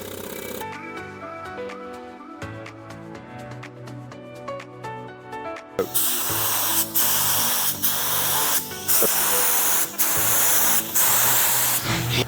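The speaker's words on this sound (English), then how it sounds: "then shoot a little bit of base coat." Spray gun shooting base coat onto a wrecked Ford Lightning: bursts of loud, steady hissing spray starting midway and repeating in several passes with brief gaps, over background music.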